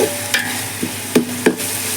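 A soft sizzle of spices frying in oil for chicken dum biryani, with four or five light scrapes and taps of a spoon stirring the pan.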